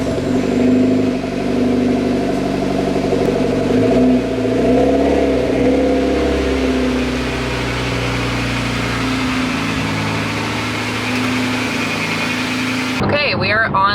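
A Mitsubishi Evo X cruises on the highway with a steady engine drone and road rumble inside the cabin, and the pitch shifts briefly partway through. A person talks over the engine noise.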